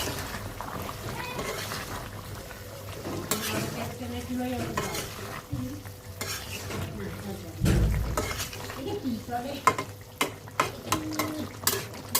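Duck gizzard and liver frying in a pan with green chillies, stirred now and then: soft sizzling under clattering spoon scrapes and pan knocks, with a few sharper taps toward the end and some voice-like sounds mixed in.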